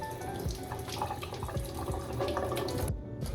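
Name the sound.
washing a tomato under running tap water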